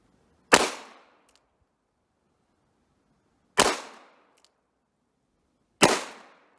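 Three sharp gunshots from an 1895 Nagant revolver in 7.62x38mmR, fired single action at an outdoor range, spaced a few seconds apart, each a loud crack with a short decaying tail and quiet gaps between.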